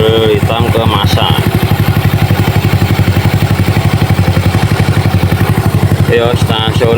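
Honda C70 motorcycle with a fullwave 12 V charging conversion idles with a steady, close, loud mechanical pulse, accompanied by voice-like tonal sounds at the start and end.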